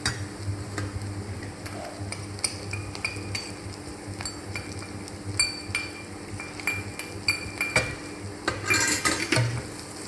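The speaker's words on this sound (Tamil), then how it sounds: "இது கொஞ்சம் நல்லா வதக்கணும்." A spoon stirs and sautés masala for a vegetarian egg masala in a pan, with a quiet background sizzle, repeated metal scrapes and clinks against the pan, and a louder clatter near the end.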